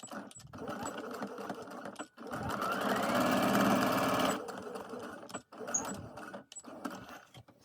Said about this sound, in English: So we're gonna bring it to the sewing machine and stitch here the same time,